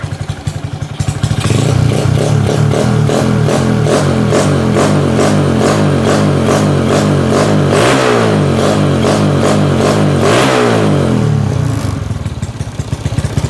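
A Honda Wave S motorcycle fitted with a Wave R control box revs during carburetor tuning. The engine stays loud and close for the whole stretch, with throttle blips rising and falling around the middle, and nobody talks.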